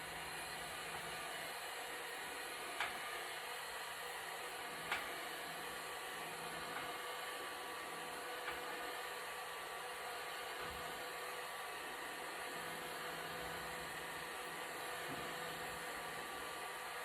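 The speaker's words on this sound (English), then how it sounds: "we use the heat gun on the low heat setting, nice and easy. We're going to melt that glue." A heat gun on its low setting blows steadily to soften the adhesive under an aftermarket iPad 7/8/9 digitizer screen, a constant close airflow roar with a few faint clicks and no talking.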